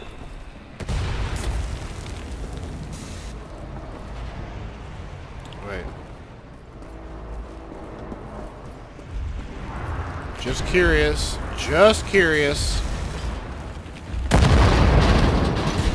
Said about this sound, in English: those cannons are blasting us out of the sky